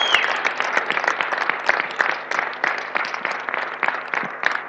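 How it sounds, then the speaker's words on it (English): A church congregation bursts into applause in praise of Jesus, dense, lively clapping from many hands that stays strong throughout. "Give Jesus a big hand of praise."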